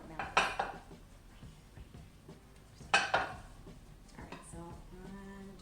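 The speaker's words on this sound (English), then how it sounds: "Alright, so I'm just gonna cut this pan like so." A knife cuts cornbread in a metal baking pan, producing two distinct metallic clinks and scrapes a couple of seconds apart, fairly close, amid soft kitchen clatter and a faint hum.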